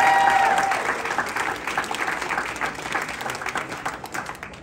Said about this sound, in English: Huge round of applause for Angry.